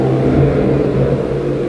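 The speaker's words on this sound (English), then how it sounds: "He's also got a white R32, but his is super loud with the Tomei exhaust on it." A white Nissan R32 with a loud Tomei exhaust rolls up, its deep droning exhaust rumble steady and close for a moment with no talking.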